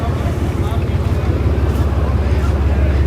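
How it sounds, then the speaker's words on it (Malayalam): A passenger boat near the Gateway of India in Mumbai gives off a steady, close, low chugging engine rumble with a faint rhythmic pulse, mixed with continuous wind noise throughout. "ഇതിവിടുന്ന് പാസഞ്ചർ ബോട്ട് ഇങ്ങനെ കൊണ്ടുപോകും."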